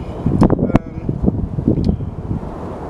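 Strong wind roars and buffets a microphone on a cold, snowy mountain climb, producing a steady, gusting rumble that is loud and close.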